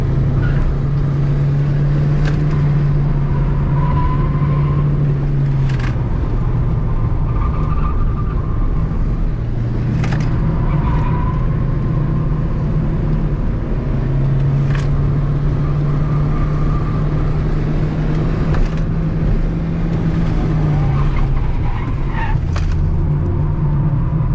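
Toyota Starlet rally car driven hard, its engine droning loudly and steadily throughout with a few sharp transient knocks and tyre noise, heard from close by without talk.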